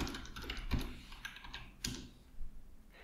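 Typing on a computer keyboard on a Windows 11 PC, a quick run of close, crisp key clicks with a few louder strikes, heard alone without talk.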